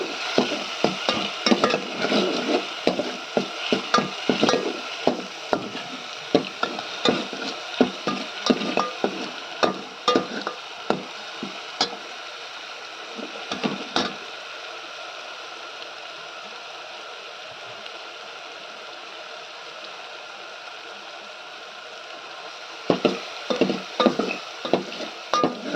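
Dry roasting in a pan with a little salt added, with a spoon repeatedly scraping and stirring in quick irregular strokes, fairly close, pausing midway before resuming.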